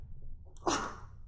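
A single sharp sneeze bursts out close by during a math lecture on trigonometric substitution, a short noisy blast rising from a faint intake, with low room hum beneath.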